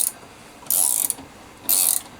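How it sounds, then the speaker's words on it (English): A ratchet spanner clicks rapidly through two short bursts while tightening stainless steel studding on a Triumph, each burst a crisp, close run of pawl clicks separated by a brief pause. "I think that's the first time I've ever put one of these ratchet spanners on and had it the right way round"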